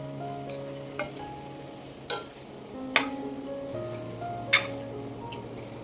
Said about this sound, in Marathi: आता हे तेलामध्ये चांगलं परतून द्यायचं